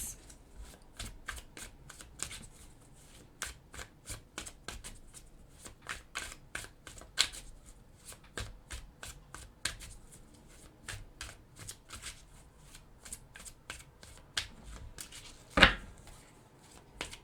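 Close, quiet riffling of a tarot card deck being shuffled again and again in a steady rhythm of soft flutters and taps, with a louder snap near the end and faint talk in the background.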